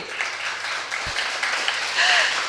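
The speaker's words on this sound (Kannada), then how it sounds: "ಒಂದ್ಸಲ ಚಪ್ಪಾಳೆ ಹೊಡೀರಿ." An audience at an abacus olympiad award event claims applause in a loose, moderate patter of many hands, somewhat distant and uneven, swelling slightly toward the end.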